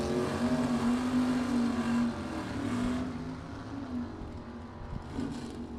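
At a Super Pro bracket drag race, a 1969 Chevrolet Nova and a Mopar launch with a loud, droning engine roar that holds and then gradually fades as the cars pull away down the strip.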